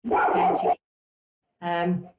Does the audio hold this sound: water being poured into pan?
no